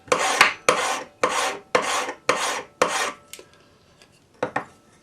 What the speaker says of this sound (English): we're going to just take our flat hand file and just file